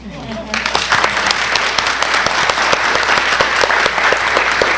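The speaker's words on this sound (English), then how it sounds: "Colin, I'm going to ask you to stand up so we can clap for you today." Steady audience applause at a university research seminar gathering, many hands clapping fairly close and loud, a few louder individual claps standing out, with talk and room noise faintly underneath.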